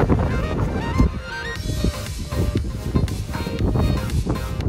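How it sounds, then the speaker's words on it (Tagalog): Strong wind blows outdoors near a large school in bad weather, a loud continuous rush pummeling the microphone for the whole stretch, with faint voices in the background. "Mahangin."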